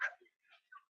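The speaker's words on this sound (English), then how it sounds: "Oh, there's a dog." A dog outdoors in a UK recreation area with a skateboard ramp and mini golf course gives a few short, faint whimpering yips in quick succession, brief and soft with gaps between.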